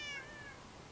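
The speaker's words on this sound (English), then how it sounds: "And yeah, that was a cat." A cat in a Minecraft world gives a short, high meow with a falling tone, fairly faint and alone, with nothing playing underneath it.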